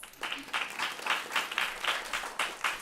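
An audience at a panel talk on food sustainability applauds, close and moderately loud, with clapping surging in regular waves for nearly three seconds.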